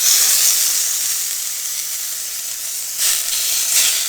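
Pork chops sear in a hot pan, a loud, steady, close hiss of sizzling fat that runs the whole time and swells briefly near the end, with no talking.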